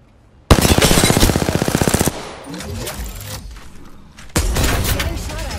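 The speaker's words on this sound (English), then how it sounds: "Getting shot at." Loud close bursts of rapid automatic gunfire in the battle royale game Apex Legends, a long burst then a quieter stretch and a second burst, with game sounds in between.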